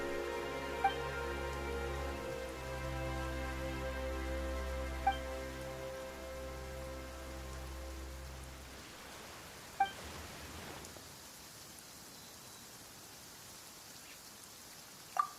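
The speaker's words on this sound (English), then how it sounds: "Why is it raining all of a sudden?" Steady rain in Genshin Impact patters and hisses over a low droning tone that drops away midway, leaving only the rain and a few faint clicks.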